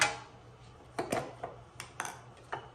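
Metal baking tray for spinach pastries handled on a kitchen counter, a run of light clanks and pings spaced irregularly, close and fairly quiet.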